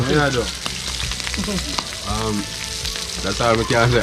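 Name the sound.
stingray frying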